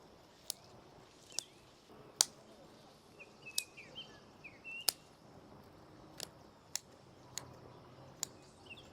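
Pruning shears snip juniper bonsai branches in sharp, isolated clicks, about ten cuts spaced irregularly, faint and close against a quiet outdoor background with light bird chirps.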